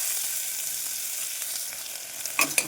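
Soft continuous sizzle of onions sautéing in hot oil, with a few clinks of a utensil stirring near the end.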